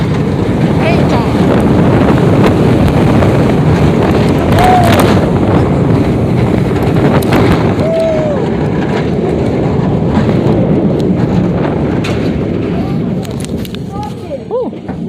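Loud, steady wind roar from riding the S&S Air launched roller coaster Maxx Force at Six Flags Great America, with rushing track noise throughout and riders' voices audible under the rush.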